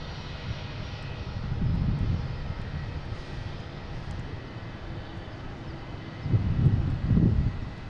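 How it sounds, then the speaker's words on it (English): American Airlines Boeing 737-800 arriving from Miami at Boston Logan, a steady distant engine rumble with two brief louder swells, no talk. "I have American Airlines coming in from Miami."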